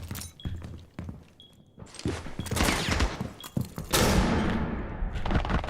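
Rainbow Six Siege gameplay during a main-stage tournament match: a flashbang burst and rapid gunfire crackle loudly, with sharp shots and thuds scattered through, growing denser and louder toward the end.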